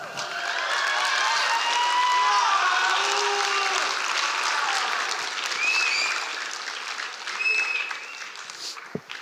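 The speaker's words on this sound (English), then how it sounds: "I sure appreciate you guys cheering her on" An audience at a school event applauds and cheers in a steady, dense wash of clapping that fades toward the end, with a few scattered whoops.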